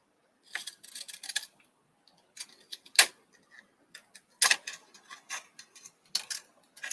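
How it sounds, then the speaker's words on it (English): Decorative craft scissors snip paper in short bursts of crisp clicks, some in quick clusters and some single, near and fairly loud against an otherwise quiet room. "I'm going to use some decorative scissors,"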